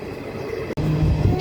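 The Hazarduari Express rumbles as it enters Kalyani, a brief, steady, loud rolling noise with a momentary dropout partway through.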